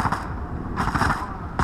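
Gunfire in The Last of Us multiplayer on the Dam map comes as rapid automatic bursts, two close, loud volleys with a short gap between them and no talk.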